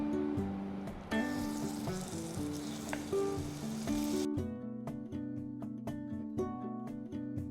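Pancake batter with spring onions frying in a pan gives a continuous close sizzle that is strongest at the start, with background music playing throughout and no talk.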